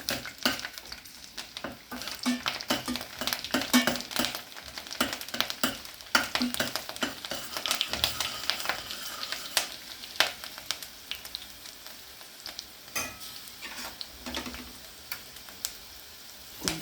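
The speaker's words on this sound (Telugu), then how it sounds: "వేడవ్వాలి వెల్లుల్లిపాయలు వేస్తాను కొంచెం వేగాలి" Garlic frying in hot oil in a pan for a Telugu telagapindi curry, a steady crackling sizzle with scattered sharp pops and stirring scrapes, close and continuous throughout.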